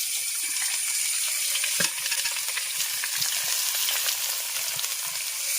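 Chopped shallots fry with garlic and ginger in hot oil, giving a loud, dense, steady sizzle up close, with a few faint clinks of a utensil against the pan.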